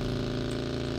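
A smoking, damaged car's engine running in the game PUBG: a steady, low mechanical hum with an even droning tone, close and unbroken for the whole second.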